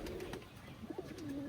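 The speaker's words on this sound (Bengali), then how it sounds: "এখন এই যে দিচ্ছি খাইতে কবুতরগুলো" Pigeons of an old bloodline coo softly while being fed after a liver tonic mixed into their water. A few low, rounded coos come close together, faint against a quiet background.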